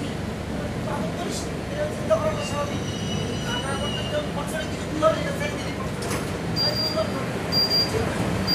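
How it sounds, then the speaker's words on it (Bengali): A train pulls into Dakshineswar station with steady rolling rumble, high wheel squeal and brake screeches rising over a busy platform din. "ফাইনালি আমাদের ট্রেন চলে এসেছে আমাদের দক্ষিণেশ্বরে"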